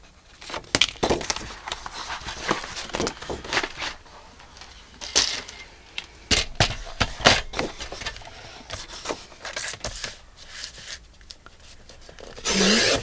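Scissors cut paper for an envelope-style journal: irregular, crisp snips and rustles, close and fairly loud, come in bursts separated by short pauses, with no voice.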